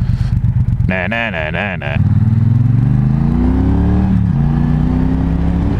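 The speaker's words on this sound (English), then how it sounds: "here we are today on a Triumph Bonneville Bobber" A 1.2-litre Triumph Bonneville Bobber cruiser rumbles close and loud, with a brief sharp rev, then the engine note climbs steadily as it accelerates; a voice is heard briefly near the start.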